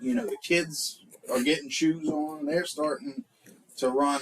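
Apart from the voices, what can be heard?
No everyday noises stand out.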